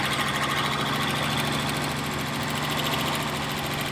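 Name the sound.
engine idling with Zenith 3540 carburetor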